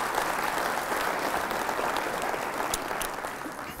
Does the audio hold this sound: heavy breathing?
no